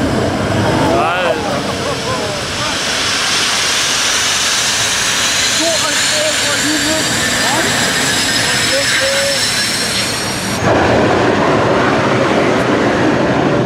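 A jet turbine truck, an army truck fitted with two fighter-jet turbines making 20,000 hp, roars loud and constant with a high whistling whine, while a voice talks over it; the roar surges louder near the end.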